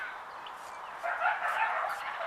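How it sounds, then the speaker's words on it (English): Dogs bark and yip outdoors at a distance, a muffled, continuous run of barking that grows slightly louder partway through, with no talk. "You can listen to the dogs barking,"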